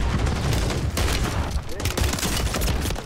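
Dense, overlapping gunfire and blasts from shotgun shots in a video game firefight, loud and continuous throughout with muffled voices mixed into the chaos.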